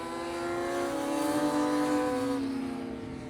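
Pre-injection 600cc race motorcycles on a circuit at East Fortune in Scotland, engines howling at high revs as they pass nearby, pitch shifting as they go by.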